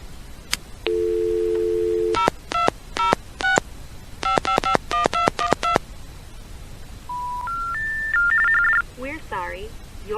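Keypad dialing on a Northern Telecom Centurion pay phone placing a 0+ call, starting with a held low tone followed by bursts of rapid touch-tone digits, then a rising sequence of steady tones and warbling signal beeps.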